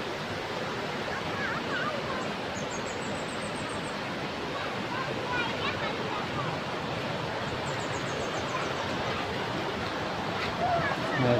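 Continuous broadband roar of a waterfall in the morning in Southeast Aceh, loud and steady throughout, with faint bird chirps above it and a brief voice near the end.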